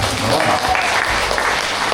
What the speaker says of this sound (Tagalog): Palakpak tayo dyan